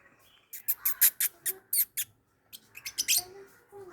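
An African parrot kept in a yard calls noisily, a close, loud series of sharp, shrill squawks in two bursts with a short pause between.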